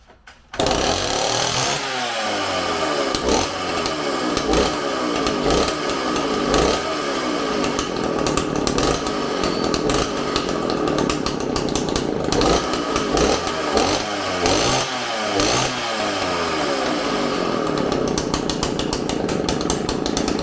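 A Stihl 041 Farm Boss chainsaw with bar and chain fitted runs loud and close for twenty seconds, its two-stroke engine droning steadily with small fluctuations in revs and no talk over it.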